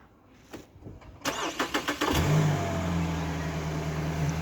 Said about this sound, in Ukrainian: ну тут машина завелась